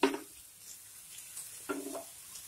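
Bread slices toast in a pan, soft sizzling under two distinct clatters of a spatula turning them, quiet and close.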